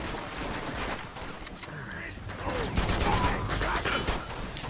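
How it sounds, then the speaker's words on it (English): Gunfire during a firefight in Uncharted 2, with bursts of shots and clattering impacts that grow denser and louder in the second half. They play under game sounds and occasional voices. "I guess I can shoot through a tree."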